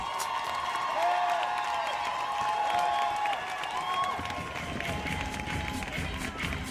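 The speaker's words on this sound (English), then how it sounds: "Give Inksy a round of applause" Steady crowd applause for Inksy at a drawing contest final, dense continuous clapping mixed with cheers and whoops, loud and sustained throughout.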